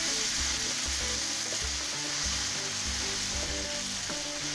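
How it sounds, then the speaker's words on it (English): Chili garlic paste sizzles in hot oil while being stirred for Thai basil pork stir-fry, a continuous close hiss with a regular pulse of spatula strokes against the pan. "your oil is hot, add chili garlic paste. Stir it for 1 minute."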